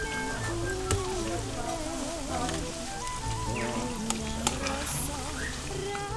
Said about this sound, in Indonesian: Tahu putih kecil seperti ini dipotong, lalu masukkan ke penggorengan.